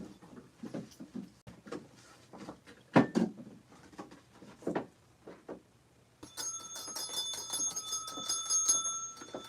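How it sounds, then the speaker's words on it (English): A small hand bell rung to celebrate a new subscriber, a bright sustained ringing with clear overtones, following a stretch of scattered taps and bumps as the bell is found. "Where's my bell? Let me give me a bell."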